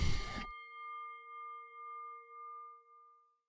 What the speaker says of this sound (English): guys hear that bell? Yep. Ding-a-ling, ding-a-ling, ding-ding.